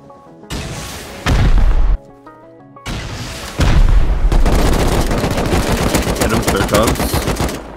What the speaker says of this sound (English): So we decided to go over and put some rockets into it.